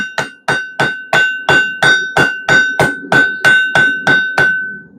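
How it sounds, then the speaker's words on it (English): Hot steel is forged into a steak flipper under a blacksmith's hammer: about thirteen evenly paced, ringing blows land close by, one after another, with no talking. "as you're doing this hammering, do not have a death grip on your hammer"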